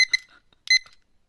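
A timer alarm rings in short bright electronic bursts, two clusters of chiming beeps separated by a brief gap, close and fairly loud in an otherwise quiet room.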